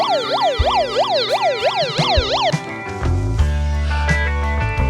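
A police siren from an emergency radio wails, sweeping up and down repeatedly, loud and close, then cuts out and gives way to music with a heavy bass beat.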